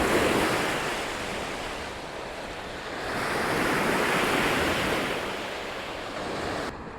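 Lake Michigan waves breaking on a sandy beach near the Wisconsin border, a continuous rushing surf that swells and recedes in broad surges, with some wind buffeting the microphone and no voices.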